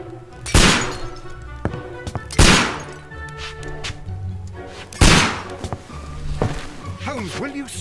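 Gunshots fired indoors inside an apartment in a Sherlock Holmes video game, three sharp loud blasts spaced a couple of seconds apart, with game sounds and voices between them.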